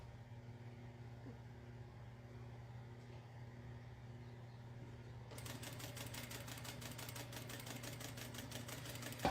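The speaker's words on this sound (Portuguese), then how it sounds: "agora aqui eu vou começar a costurar a alça" A sewing machine stitching a bag strap for a small manicure case starts partway through, its fast even needle rattle running steadily over a constant low motor hum.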